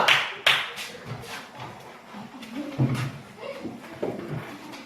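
A classroom of students claps after a group presentation, a loose scattering of hand claps over murmuring voices, irregular rather than a full ovation.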